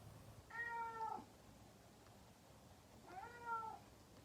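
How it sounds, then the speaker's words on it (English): Outdoors at a horse barn, a cat gives two separate drawn-out meows a couple of seconds apart, moderately close, with no talking in between. "he still just walks around and meows at me"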